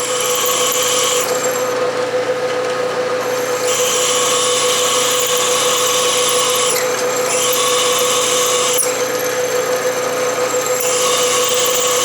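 A drill press bores steadily into a cast iron vise jaw, its loud, constant grinding whine running unbroken throughout with no pauses and no voices.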